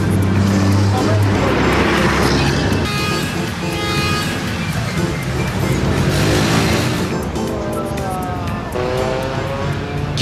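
A car drives and speeds up in a loud, continuous roadway sound lasting the whole stretch, with engine tones rising and shifting as it gains speed.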